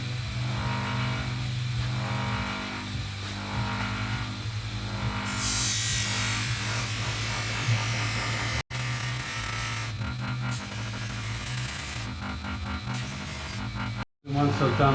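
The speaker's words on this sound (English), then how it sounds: "so now we go into the buffer wheel" Buffing wheel with grey buffing polish working the side glass of a Holden HT Monaro, a loud continuous motor drone with a rough grinding, polishing texture that swells in pitch partway through and dips briefly twice.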